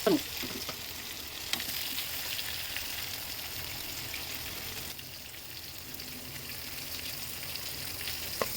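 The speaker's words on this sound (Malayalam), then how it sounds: "അപ്പോൾ ഗൈസ് നമ്മൾ ചീനച്ചട്ടിയിൽ ഓയിൽ ഒഴിച്ചിട്ടുണ്ട് അപ്പോൾ നമ്മൾ ആദ്യം തക്കാളി ഒന്ന് വഴറ്റിയെടുക്കണം" Tomatoes sautéing in oil in a frying pan: a soft, even sizzle with faint crackles and occasional stirring knocks, continuous and close, with no talking.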